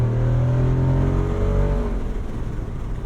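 A Jeep Wrangler 392 V8 with an active exhaust accelerates, its loud, rising engine note climbing for about two seconds before easing off into a rougher, fading rumble.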